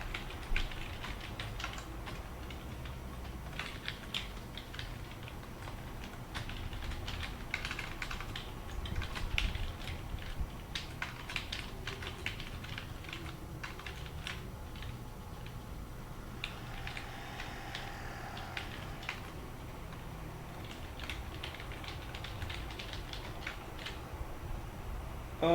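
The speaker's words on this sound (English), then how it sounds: "This is gonna be a lot of typing" Rapid clicking keystrokes on a computer keyboard while entering code, steady and close, in continuous uneven bursts for the whole stretch with no voices.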